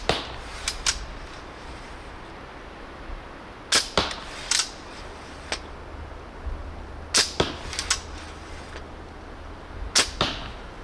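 Arrows loosed from a commercial repeating bow, each shot a sharp snapping twang with a quick whoosh, coming in tight pairs and clusters spread over several seconds, close and loud with quiet pauses between volleys.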